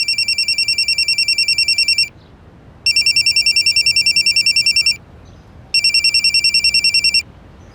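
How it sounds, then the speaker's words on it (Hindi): A telephone ringing in three long electronic trilling bursts separated by short silent gaps, loud and close with no voices. "अगले दिन सुबह निखिल को फोन तो आया, लेकिन यह फोन पवन या उसकी मां ने नहीं किया।"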